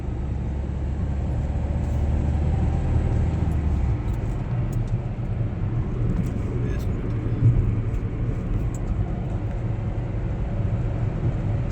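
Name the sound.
2011 Hyundai i20 diesel car engine running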